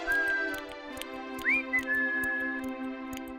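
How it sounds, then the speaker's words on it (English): A tin man whistles a bright, sliding tune, with a few rising and gliding notes held over a steady musical backing, close and clear. "He was busy oiling his screws and was whistling away."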